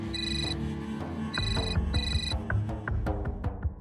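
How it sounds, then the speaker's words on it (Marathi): A mobile phone rings with a repeating melodic ringtone in short bursts, close and clear, with music playing underneath. "किती वेळ झाला फोन वाजतोय"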